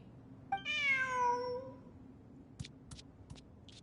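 A cat in the game Genshin Impact gives one clear, drawn-out meow, followed by a few short faint clicks and taps, with no talking.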